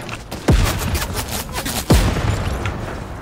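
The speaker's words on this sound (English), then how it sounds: "Someone shooting." Video game gunfire rings out as two loud, booming shots about a second and a half apart, each with a sharp crack and falling tail, over a steady bed of rattling in-game noise.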